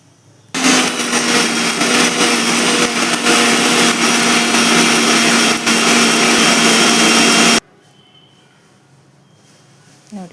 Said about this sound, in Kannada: ಈಗ ಸಣ್ಣ ಮಾಡ್ಕೊಳ್ಳೋಣ ಇದು ಮಿಕ್ಸಿಯಲ್ಲಿ.